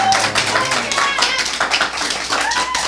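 Audience at a public debate on media portrayal of disabled people clapping for four panelists, a close, loud patter of hands mixed with voices and scattered talk throughout.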